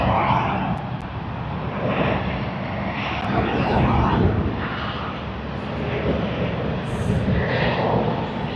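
A large airliner roars at Sydney Airport as a broad, sustained engine rumble that swells and eases, heard from some distance with people talking over it.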